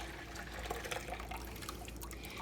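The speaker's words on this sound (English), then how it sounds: "a large colander inside another big steel bowl, and I simply pour this in" Curds and whey for homemade mozzarella pour into a large colander set inside a big steel bowl, a steady close splashing and dripping of liquid running throughout.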